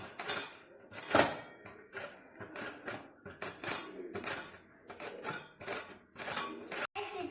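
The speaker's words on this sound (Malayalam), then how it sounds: "അപ്പൊ നമ്മൾ ഈ ക്യാരറ്റ് അരിഞ്ഞൊക്കെ" Carrots chopped by hand with a knife, a rapid run of sharp, close knocks on a board that pauses and restarts in bursts, with no talk over it.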